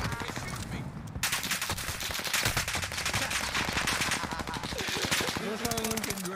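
Rapid bursts of video game gunfire, machine-gun fire mixed with single shots, crackle loud and nearly nonstop across the whole stretch, with game sounds layered in and brief talk underneath.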